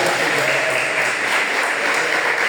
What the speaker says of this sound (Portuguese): Receba com palmas e glória a Deus.